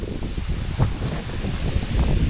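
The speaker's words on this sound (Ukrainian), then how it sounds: "А який вітер, як ж він дує." Strong wind roars steadily across the microphone while fishing for crucian carp, a dense, rumbling gusty noise with no voices.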